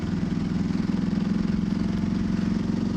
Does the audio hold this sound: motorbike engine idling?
yes